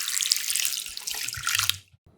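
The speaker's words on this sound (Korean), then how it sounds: "볼에 담아 물을 잠기도록 붓고," Tap water running into a bowl of vegetables in a kitchen, a steady close splashing pour for about two seconds that stops abruptly, leaving faint drips.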